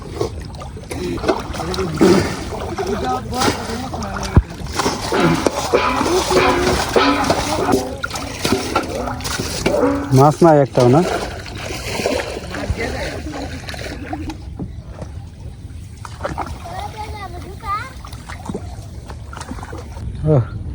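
A wooden village fishing boat moves through water with intermittent splashes, sloshing and knocks nearby, while people talk loudly over it for much of the time.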